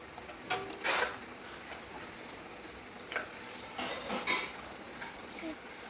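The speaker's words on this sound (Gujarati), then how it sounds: "આને આવી રીતે ઉલટ પલટ કરતા રહેવાનું છે સાથે સાથે" Pani puri puris frying in hot oil and turned over and over until golden brown: a soft steady sizzle broken by a few short scraping and clinking strokes, near and fairly quiet, no talking.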